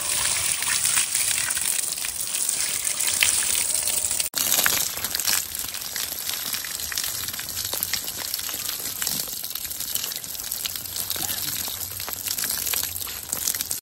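Water poured steadily to rinse fish being cleaned at home, a continuous close splashing and sloshing with crinkly handling noises mixed in and faint voices in the background.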